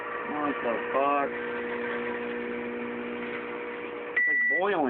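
Microwave oven humming steadily with a banana heating inside, a constant mid-pitched drone with a faint hiss, while people speak briefly over it at the start and end.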